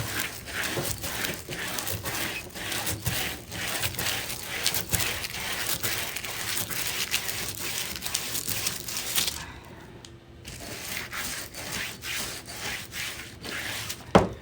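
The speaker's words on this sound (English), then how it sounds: "This is a Clorox scrubber for small spaces." A Clorox scrubber for small spaces rubs back and forth across a painted surface in steady, close scratchy strokes, pausing briefly near the end before resuming.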